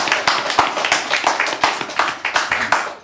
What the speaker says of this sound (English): More applause, please, for agnestwo2.